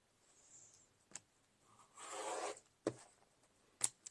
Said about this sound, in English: I'm going to cut the bottom.